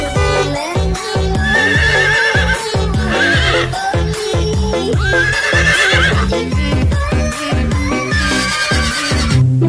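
A horse neighs and whinnies repeatedly, loud and close, with clip-clop hoof sounds and other busy animal noise running underneath throughout.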